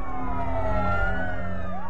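Fire engine sirens wailing around a stopped airliner on the runway during an emergency, several overlapping tones sweeping up and down over a steady low engine rumble, loud and continuous with no talk.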